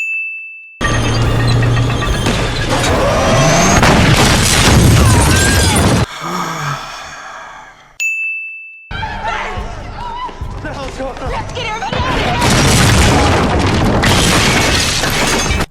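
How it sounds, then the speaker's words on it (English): Tank firing shells with explosions hitting a building in The Walking Dead season 4, loud booms and crashing debris with clanging impacts, broken by short gaps and a ding. "why on earth is no one telling this fucking numpty firing off those shells to avoid destroying the entire building they want to live in?"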